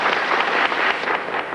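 An audience claps to welcome a child singer onto a television stage, a dense, steady burst of many hands with slight swells, heard alone without voices.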